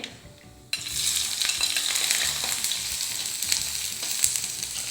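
Ten to fifteen finely chopped small shallots dropped into hot oil with mustard seeds for a curry, setting off a sudden loud, dense sizzle that carries on steadily with faint stirring clicks; no talking.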